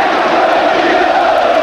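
Stadium crowd roaring and chanting in celebration of Palmeiras winning the 1999 Copa Libertadores final, a dense, steady wall of massed voices throughout.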